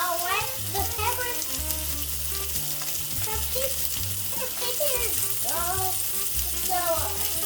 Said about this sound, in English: you want it to get a good sear on one side